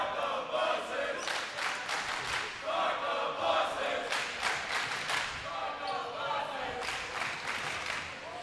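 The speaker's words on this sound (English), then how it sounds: "Crowd starting to go back and forth at it." A high school boys basketball crowd at a Connally Cougars versus Georgetown Eagles game chants back and forth in rhythmic swells, cheering rising and falling in waves across the gym, with loud bursts alternating steadily.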